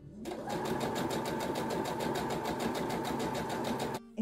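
A sewing machine runs steadily for about four seconds, making a fast, even rhythmic stitching chatter as it sews a double-turned ruffle hem on fabric. The sound is close and continuous, with no talking.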